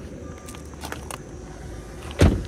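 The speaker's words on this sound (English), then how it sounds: "Pop the hood here for" A single loud clunk from the hood release or latch of a 2000 Jaguar S-Type V8, heard near the end of a quiet stretch after a few faint clicks and rustles inside the car.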